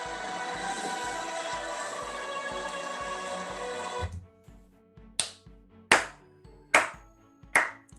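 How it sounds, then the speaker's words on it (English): A sarcastic slow clap: after a rumbling stretch of background noise cuts out, five loud, deliberate single claps ring out alone at a slow, measured pace. "Another sarcastic clap"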